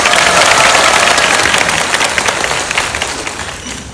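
Audience applause at a Korean book talk, answering the novelist's request during her introduction; dense, loud clapping that fills the moment and tapers off gradually.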